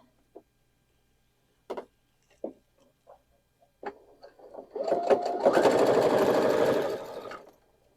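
Sewing machine stitching LeMoyne Star quilt block pieces: a few isolated mechanical clicks and short bursts, then a steady, fairly loud run of rapid stitching for about two seconds before it stops.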